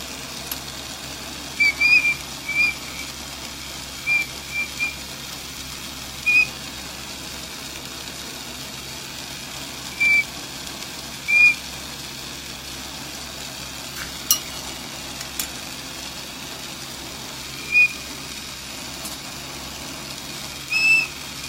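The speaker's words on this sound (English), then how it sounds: "The oxygen pushing past the hole I made in the glass here for the mouthpiece. If I hold it at the right angle, it gives that sharp whistle." Air whistling through a mouthpiece hole in a glass pipe, giving short sharp high whistles at irregular intervals, about a dozen brief bursts over a steady background hiss.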